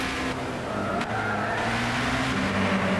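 Race car in Gran Turismo 6, a Nissan Zytek LMP2 at Le Mans, running off the track near Tertre Rouge: a steady loud engine drone with shifting tones and a noisy gritty wash throughout, no talk.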